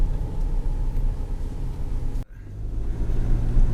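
Mahindra Scorpio N SUV engine pulling hard and accelerating through the gears, a loud steady rumble with a brief dip at a gear change before building again.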